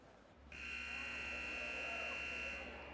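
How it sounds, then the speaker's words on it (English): A loud electronic hockey arena buzzer blares for a few seconds at a girls' U19 hockey game, a harsh sustained tone that starts abruptly and fades slightly as it ends. "The buzzer sounds,"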